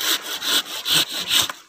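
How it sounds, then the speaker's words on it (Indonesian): A hand saw cuts through a cut tree branch in a garden, four strong rhythmic strokes in quick succession, each a loud, raspy wooden rasp, close and alone with no talking. "Kita gergaji."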